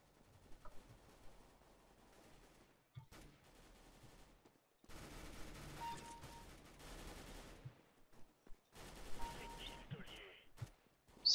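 P90 submachine gun fire in CS:GO, quiet bursts of shots in separate stretches broken by silent gaps, with brief game sounds between them.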